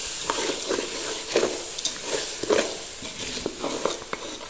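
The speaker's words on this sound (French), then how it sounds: "Je mélange le tout." Rice being stirred in a large pot over lowered heat, with a low sizzle beneath rhythmic scraping and shuffling strokes of a spoon, close and steady throughout.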